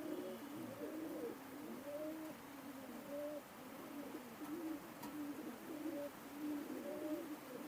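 Pakistani high flying pigeons coo steadily at a home loft, with soft, rolling calls repeating in overlapping waves throughout and no voices.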